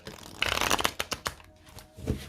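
A tarot deck being cut and handled during a reading, a soft riffling rush followed by several crisp card snaps and taps, close and alone.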